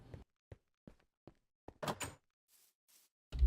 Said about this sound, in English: Better close the doors.